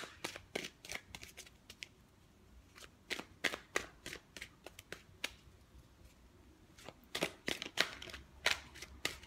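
Tarot cards being shuffled in several quick riffling bursts, crisp close-up flutters and snaps separated by short pauses, with no talking.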